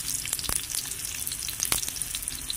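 Garlic and onion sizzle steadily in a hot pan with oil, a bright continuous frying crackle with a few sharper pops and stirring clinks, close and fairly loud with no talking.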